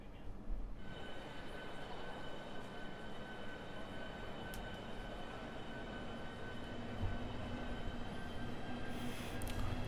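Class 395 ITX-Saemaeul train pulling away in Train Sim World 4, a steady rumbling hum with a faint whine building gradually, continuous and fairly close throughout.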